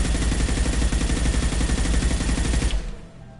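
Revenant machine gun in Mass Effect 2 firing a long unbroken burst of rapid loud shots that stops abruptly near the end, followed by a brief fading tail.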